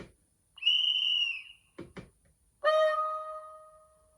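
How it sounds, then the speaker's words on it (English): A guard's whistle from the DCC sound system of a class 47 model locomotive, a shrill sustained blast, then two short chirps and a second, falling trill, clear and close in quiet surroundings. "Guard's whistle is on function 12."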